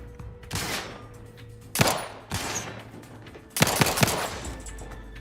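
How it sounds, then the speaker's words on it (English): Distant enemy gunfire in The Outer Worlds 2, a few separate bursts of shots standing out over a low game background hum, with no talk. "That guy is shooting from that far away."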